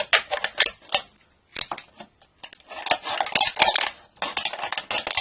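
A knife slicing down the middle of an aluminium soda can, heard as a series of sharp, scratchy, crinkling metal bursts with short pauses between strokes, close and fairly loud.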